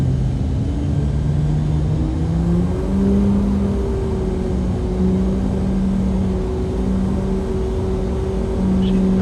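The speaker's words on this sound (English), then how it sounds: "Thrust reversers here," L410 turboprop in X-Plane 11 using thrust reversers on landing: a steady, loud engine roar with rising and falling tonal whine, continuous throughout without talk.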